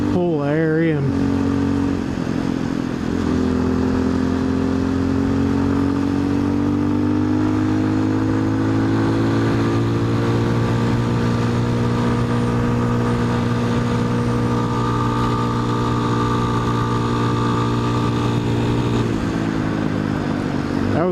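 A TBR7 minibike engine with an opened-up air intake pulls at full throttle up a steep mountain road at about 60, a loud, steady, sustained drone with rising pitch after a brief rev at the start, ending as it backs off.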